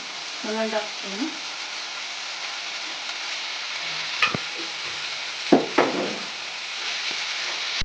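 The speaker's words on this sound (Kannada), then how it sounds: "ಸರಿಯಾಗಿ ಮಿಕ್ಸ್ ಮಾಡೋಣ" Flattened rice (avalakki) is stirred in a frying pan, a steady soft sizzle broken by a few scraping spatula strokes and clinks, with a voice briefly speaking near the start.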